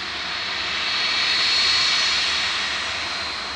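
A 32-year-old Boeing 757 climbs away from Manchester Airport on departure, its engine roar swelling to a peak and then easing slightly as it passes, steady and fairly close with no voices.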